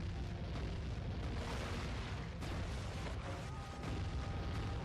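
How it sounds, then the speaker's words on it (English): Heavy booming blasts of cannon fire in the game Sly 3: Honor Among Thieves roll over one another in a dense, continuous barrage, loud and close, with no talking. "somehow having the cannons just fire right over me"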